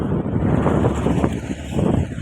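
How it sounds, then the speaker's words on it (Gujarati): Strong wind roars and buffets steadily against the microphone, a loud, continuous rumble with gusty surges throughout and no voices. "પવન બહુ છે"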